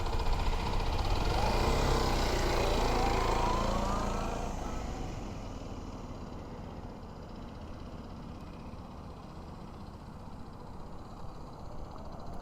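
Motorcycle engine running steadily during slow U-turn practice in an open lot, a moderate mid-pitched hum that is stronger in the first few seconds, then settles lower and steady.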